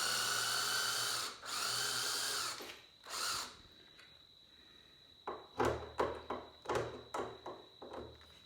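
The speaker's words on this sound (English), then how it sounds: "The drill's really having a hard time." A power drill strains while boring through wood for a shim on a saw table rebuild: long whining bursts of the motor, then a series of short, choppy pulses, close and fairly quiet.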